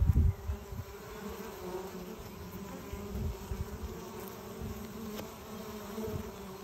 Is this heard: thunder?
no